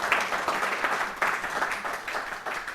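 A church congregation applauds in a continuous, moderately loud patter of many hands, swelling in small waves, with no talking over it.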